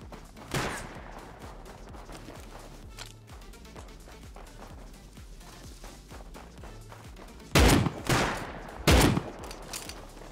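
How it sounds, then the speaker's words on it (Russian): Bolt-action rifle fire in Rust, a few spaced single cracks, two louder, nearer shots close together toward the end, over a low steady background rumble. "Вон он стреляет с болта."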